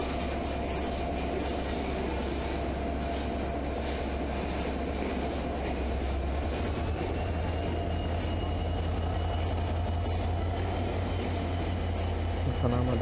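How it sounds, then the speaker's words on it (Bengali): The Chitra Express passenger train rolls past at a station with a constant heavy rumble and rail noise, close and loud throughout, joined near the end by a rising whine. "এখন আমাদের সামনে থেকে চলে যাচ্ছে চিত্রা এক্সপ্রেস"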